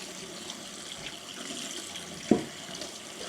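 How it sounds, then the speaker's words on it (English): Cold tap water running steadily over freshly cut potato chips being rinsed in a sink, a quiet continuous splashing stream with one brief louder knock or clatter near the end. "give them a good rinse with some cold water"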